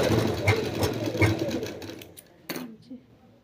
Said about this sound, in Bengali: এখান থেকে এটুকু তো ডবল সেলাই নেব